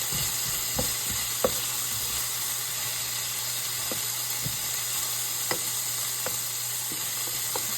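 Food sizzles and caramelizes in a pan, a constant dense frying hiss with occasional light clicks and pops, close and steady throughout, no one talking.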